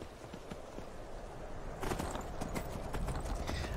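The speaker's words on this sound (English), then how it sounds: "I like how my horse can run fast even when I'm sitting on it over encumbered." Rhythmic hoofbeats of a galloping horse in the video game Skyrim, quiet at first and then louder and denser partway through, with no talking.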